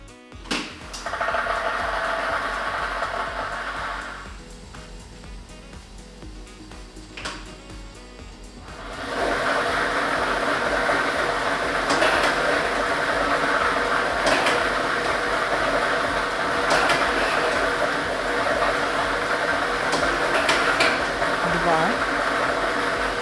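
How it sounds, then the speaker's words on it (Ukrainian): A lottery drawing machine runs with its set of numbered balls, a steady whirring churn of tumbling balls that pauses briefly midway and then continues loud and close for the rest of the stretch. "І ми вмикаємо лототрон"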